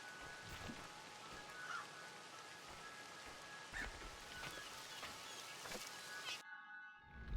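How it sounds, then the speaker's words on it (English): Steady rain in the video game Crow Country patters and hisses across a surface, with scattered heavier drops and faint rumbles, then cuts off abruptly near the end. "What? Why is it raining?"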